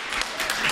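Brief burst of audience applause at a live quiz show, a steady wash of clapping lasting under a second, fairly close and loud.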